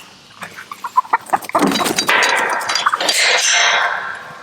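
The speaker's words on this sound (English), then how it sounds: "Chickens." Farmyard chickens cluck in bursts, sparse and close at first, then swelling into a dense, continuous flock chatter with sharper squawks and faint clinks mixed in, no talk over it.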